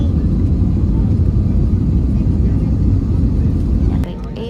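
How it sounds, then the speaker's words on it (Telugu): Air India jet landing at Delhi, heard from inside the cabin as a loud, continuous low roar of engines and airflow that drops suddenly near the end. "ఇంకా మా ఫ్లైట్ ల్యాండింగ్"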